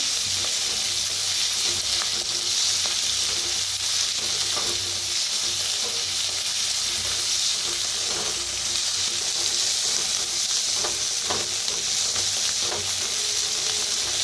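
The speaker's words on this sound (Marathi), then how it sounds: "छान असा कांदा कढीपत्ता भाजून घ्यायचा" Onion and curry leaves fry in a pan with garlic, giving a constant dense sizzle and hiss throughout, broken by occasional soft scrapes and taps of stirring.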